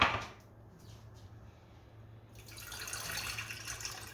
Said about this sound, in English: So then I add my water that I measured the perfect amount.